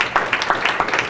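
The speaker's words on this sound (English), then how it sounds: "how about a round of applause for her and that great presentation?" A room audience breaks into a short burst of applause after a presentation, quick bright claps pulsing in a rapid rhythm.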